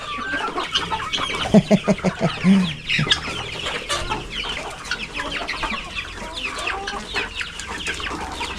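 Farm chickens cluck close by, with a quick run of loud, sharp clucks early on, then softer scattered clucking and calls that continue through the rest of the stretch.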